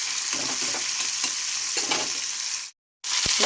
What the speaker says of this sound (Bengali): মাছগুলো ভালো করে আমি ভেজে নেব।